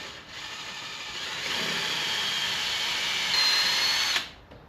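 A power drill whirs steadily for about four seconds, drilling a center-punched hole on a 1950s Ford 8N tractor, rising slightly in pitch as it bites, then winds down and stops.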